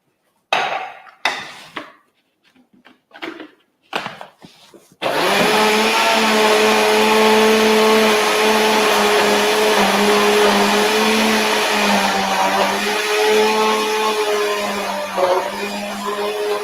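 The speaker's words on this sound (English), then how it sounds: "Okay, my red chili is blended now." Red chili and water whirring in a kitchen blender, starting abruptly after a few brief clattering handling sounds and then running as a loud, steady motor drone with slight pitch wavering for over ten seconds.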